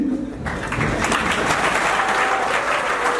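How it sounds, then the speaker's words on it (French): Loud, dense applause from a large audience at a ceremony starts abruptly and continues steadily, a full crowd clapping in unison near the microphone. "Que vous puissiez applaudir d'abord pour vous-même,"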